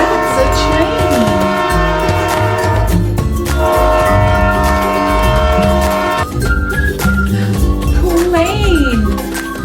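A train horn sounds amid loud, dense music, with a voice in the mix; the horn tones hold steady for several seconds over rumbling background.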